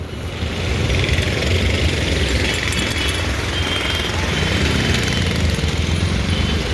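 A steady, loud motorcycle engine drone with rushing wind noise runs throughout while riding on an open road toward Patiala on a foggy day, with no talking.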